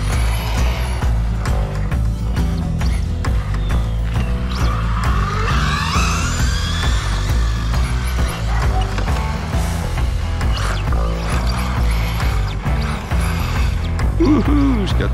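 A Tamiya TT02 radio-controlled car wearing a Ford Mustang GT4 body drifts around, its electric motor whining and rising in pitch along with rattling mechanical clatter. The sound is loud and continuous throughout.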